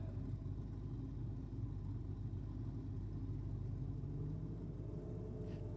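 Ford Falcon drag cars sit idling on the start line with a low, steady, fairly distant rumble that hardly changes throughout, and no voices are heard.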